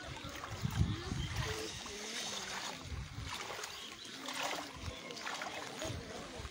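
Fast floodwater surges and splashes past a flooded home during a strong current, a steady rushing wash with choppy splashes, heard close with nobody talking.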